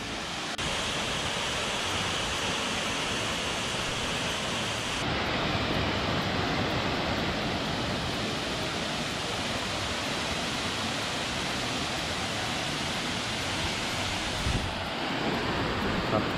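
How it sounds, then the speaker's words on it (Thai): The Tad Yueang waterfall near Pakxong in southern Laos roars as a constant dense rush of falling water, loud and unbroken, with some wind buffeting the microphone. "น้ำตกตาดเยืองครับเป็นน้ำตกที่มีความสวยงามมากๆครับ"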